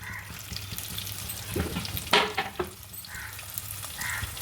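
Onions, tomatoes and coconut fry in oil for a village-style mutton curry, giving a soft steady sizzle with a few louder stirring scrapes and clinks near the middle.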